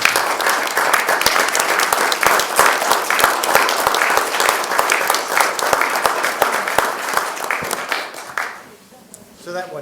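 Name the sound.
round of applause at city meeting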